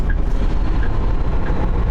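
An old truck with a fully modified exhaust system idles or runs steadily at a factory loading area, giving a loud, continuous low rumble close by with no voices.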